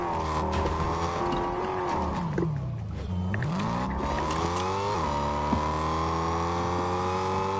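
A car engine in Fortnite revs loudly and continuously, its pitch dipping and climbing as it shifts and swerves, with a brief tire squeal along the way.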